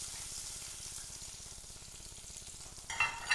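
Chopped onions fry in hot oil in a pan for fish kulambu, a steady close crackling sizzle that runs throughout, with a brief louder burst of stirring or clattering near the end; no one speaks.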